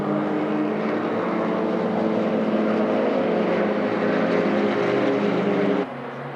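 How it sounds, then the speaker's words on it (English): Race car engines at the Bathurst 6 Hour production car race drone with a sustained, harmonic-rich engine and exhaust note that holds steady before dropping off suddenly near the end. "you can often pick which car is going past you, depending on the engine note and the exhaust sound"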